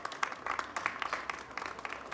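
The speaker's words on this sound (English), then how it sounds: "Give yourself a round of applause." A small crowd at a Brooklyn community unveiling applauds, faint uneven clapping in short bursts.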